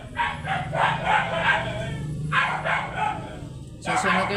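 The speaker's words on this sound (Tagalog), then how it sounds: "Susunod kayo sa mga asong maiingay, aso ng kapitbahay, puro nakatali." Neighbour's tethered dogs barking noisily, a run of repeated yaps and barks at moderate distance, with a voice talking over them and a burst of louder barking near the end.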